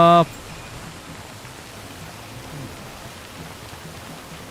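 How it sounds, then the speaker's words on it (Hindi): Steady rain in the video game Death Stranding Director's Cut hisses evenly throughout, a soft continuous wash of noise after a brief tonal sound at the very start. "अब जब तक ये बारिश रुकती नहीं"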